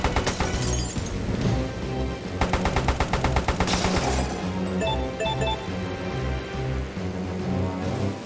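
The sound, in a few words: gunfire from an enemy plane in video game Airfix Dogfighter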